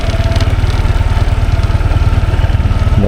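A motorcycle engine runs loud and close while riding along a small road near Moalboal, Cebu, with a steady low, pulsing exhaust throb and no talking.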